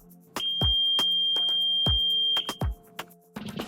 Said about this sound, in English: The buzzer will also sound a loud alert.